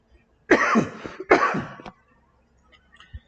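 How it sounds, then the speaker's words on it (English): Two harsh, rasping coughs in quick succession, close and fairly loud, followed by quiet with a few faint small noises. "But I'm about to cough."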